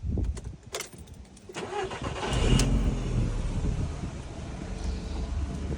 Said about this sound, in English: First thing first, let's start the car.